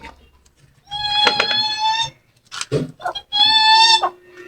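Two loud, drawn-out chicken squawks with harmonic tone, separated by short clucks, close to the listener.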